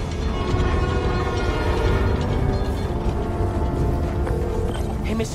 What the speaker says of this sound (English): Just the New York subway.